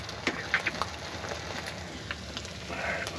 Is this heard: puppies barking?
no